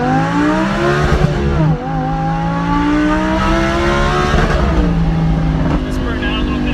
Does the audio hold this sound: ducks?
no